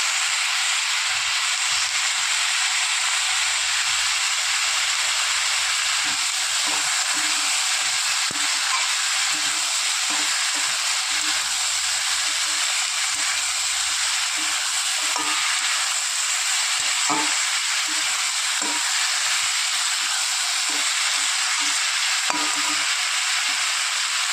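Potatoes with salt, turmeric and red chilli powder fry steadily in a pan for alu chorchori, a continuous bright sizzle with occasional soft stirring scrapes and clicks, no voices.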